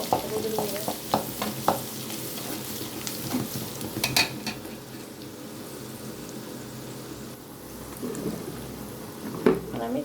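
Spice paste with chili and turmeric powder frying in a pan, a low steady sizzle with several clinks and scrapes of a utensil against the pot, nearby.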